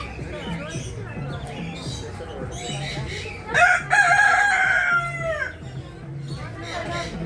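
At a bird farm with many kinds of birds, a rooster lets out a loud, close crow midway, surrounded by clucking and assorted bird calls over a low background murmur.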